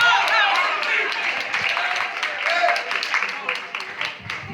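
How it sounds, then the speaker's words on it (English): Audience applause at a community dinner event, a dense wash of many hands clapping at moderate loudness, steady throughout with a voice talking over part of it. "Y'all give them a round of applause."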